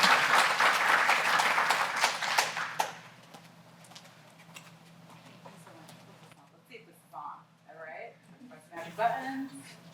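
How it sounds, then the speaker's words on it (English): An audience applauds to welcome a guest, a loud crowd of clapping hands that fades after about three seconds, followed by a quieter stretch with a voice speaking. "Let's give her another round of applause."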